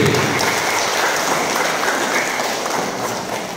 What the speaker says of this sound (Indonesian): kami mohon beri aplaus yang meriah untuk Bapak Ismail SPD